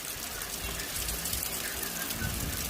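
Rain begins falling on a village, a steady broadband hiss of drops and water running throughout, with faint voices mixed into the wash.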